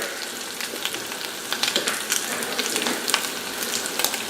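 Steady crackling sizzle of shrimp frying in a hot pan, with sharp pops and snaps scattered throughout, close and continuous.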